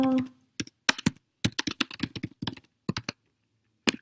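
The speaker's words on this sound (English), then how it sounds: "I'll type a few more." Typing on a computer keyboard, close and dry: a brief hum at the start, then irregular bursts of sharp key clicks in quick runs with short pauses, ending in a single late keystroke.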